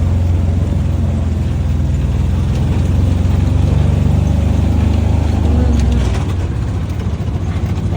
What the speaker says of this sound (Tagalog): Malakas din ang motor niya.